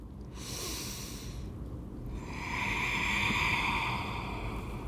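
Slow, deep breathing during a hatha yoga flow, a long airy exhale swelling toward the end, close and steady with no talking.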